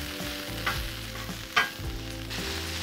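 Chorizo and potatoes sizzle on a Blackstone flat-top griddle, a steady close frying hiss with a few louder scrapes and stirs of a spatula partway through.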